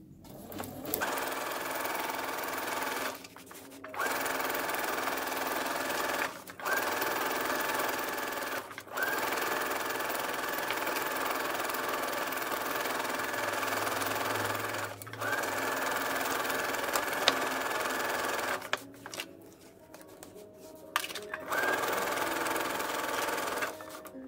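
Sewing machine stitching horsehair braid onto a hem edge like piping, running in long steady bursts with brief pauses between, close and loud, with no talk.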